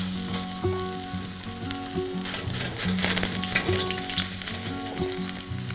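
Chapli kebabs made with pomegranate seeds fry in a mix of ghee and oil, giving a strong, continuous sizzle with crackles and spatters, close up, over steady tonal background music.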